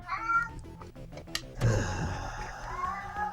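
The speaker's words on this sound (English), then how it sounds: "at that meow" A house cat gives a couple of short, nearby meows among low background sounds.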